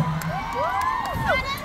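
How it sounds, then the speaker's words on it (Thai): Fans at a Lee Jong Suk fan meeting in Bangkok scream and cheer loudly, with shrill whoops rising and falling across a large indoor crowd. "พอแฟนๆแบบมอบความรักด้วยเสียงกรี๊ดแบบนี้"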